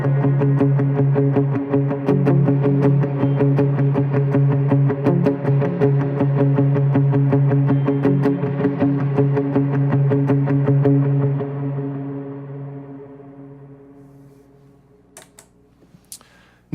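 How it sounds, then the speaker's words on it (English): Two layered electric guitar parts with effects play a steady alternate-picked pattern for a worship song, sustained and ringing loudly, then fading out toward the end with a couple of faint clicks. "Again, those two guitar parts with the picking pattern and effects on sounds like this."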